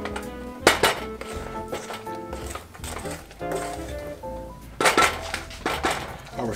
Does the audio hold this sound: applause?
no